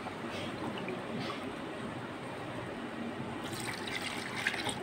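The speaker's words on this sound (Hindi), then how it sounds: "और अब मैं इसमें पानी डाल रही हूँ" Water poured into a cooking pot on a lit stove for mutton paya, a faint steady splashing trickle in a quiet kitchen, brief and continuous.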